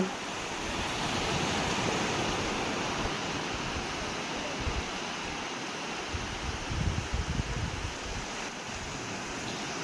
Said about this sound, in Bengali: এখানে চুপচাপ নির্জনভাবে শুধু তুমি সমুদ্রের ঢেউয়ের গর্জনই শোনা যাবে